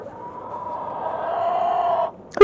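A chicken gives a drawn-out, rising call close by among a farmyard flock, sustained for about two seconds before breaking off, followed by a short sharp noise.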